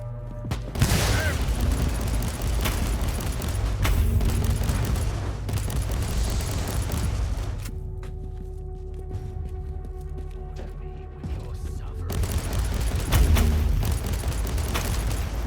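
Repeated las gun fire in Warhammer Inquisitor: Martyr, dense volleys of sharp blasts mixed with booms, loud through most of the stretch with a brief quieter lull before firing resumes.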